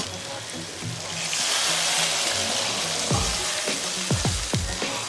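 Hot water goes into a simmering pumpkin and small hilsa curry in a pan, giving a broad frying hiss and bubbling with a few sharp splashes and stirring knocks near the end.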